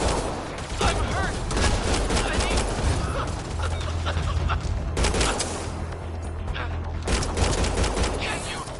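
Gunfire in the video game Mass Effect: Andromeda, dense continuous shooting and bursts over a low rumble, loud throughout, with a few shouted voices mixed into the fighting.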